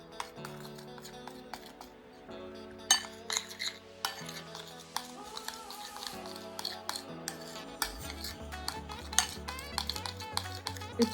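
A spoon clinks and scrapes softly in a small bowl while a skin mask with almond oil is mixed, with light irregular taps over quiet background music.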